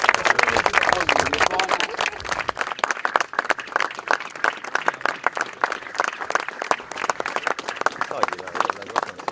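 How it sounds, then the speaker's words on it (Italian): A crowd claps at an outdoor inauguration of a scenic overlook in Motta, Palmi. The applause is dense and lively and continues throughout, with a few voices and laughter mixed in near the start. "un applauso per voi"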